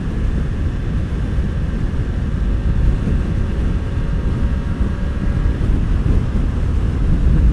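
Triumph Street Triple RS motorcycle cruising at 70 mph: steady, loud, low roar of wind blast and engine, heard from the rider's position with no voices.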